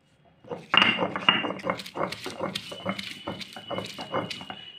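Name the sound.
grinding flat beans into paste by hand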